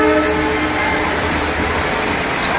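A train passes close by near waterfalls in Goa. Its horn sounds briefly at the start, then a loud, steady rumble of rolling cars fills the rest, with no one speaking.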